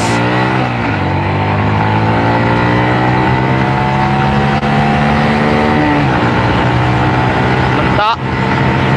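A Yamaha Vixion motorcycle engine revving close by, loud and rising in pitch through repeated throttle sweeps, dropping and climbing again, with a brief sharp transient near the end.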